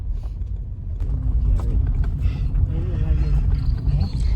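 A car rolls down a road in Jamaica with a steady low engine rumble and road noise throughout, while voices talk inside the vehicle.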